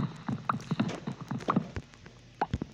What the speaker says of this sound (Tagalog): Sinama ko lang din yung kabayo